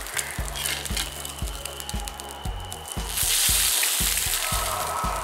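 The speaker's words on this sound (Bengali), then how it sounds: "এই পিঠটাও 30 সেকেন্ড ভেজে তুলে নেব।" An egg fries in a hot pan, giving off a steady sizzle that swells louder near the end. A low rhythmic thumping from the kitchen repeats underneath, and no one talks.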